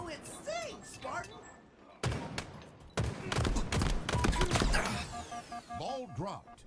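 Bursts of gunfire in a Halo Spartan firefight, sharp repeated shots clustering mid-clip amid game effects, with voice callouts and chatter heard before and after the shooting.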